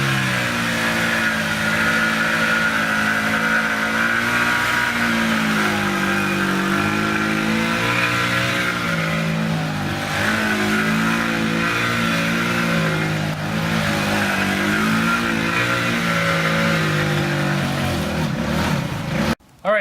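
A scooter engine warms up outdoors in a snowstorm, giving a close, loud, continuous drone for about twenty seconds with slight rises and dips in pitch as it revs, then cutting off abruptly.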